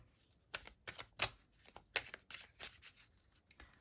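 Quiet soft slaps and shuffles of cards being placed one after another on a surface, in an irregular rhythm.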